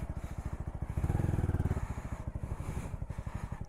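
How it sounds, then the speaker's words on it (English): Honda Grom motorcycle being ridden off-road, its small single-cylinder engine chugging loudly and close with a rhythmic pulsing exhaust that revs up, then settles back down. "Off-roading on a Honda Grom."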